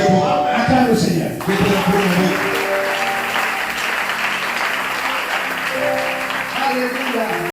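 A church congregation applauds the Lord during a French-language worship service, sustained clapping and cheering filling the room, with voices calling out over the steady applause.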